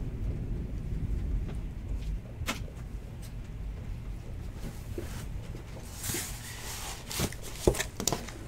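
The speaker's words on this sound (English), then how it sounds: "It is significantly raining" Heavy rain falling outside during an indoor card-opening session, a steady low rumbling wash with scattered sharp taps and rustles nearby, no clear talking.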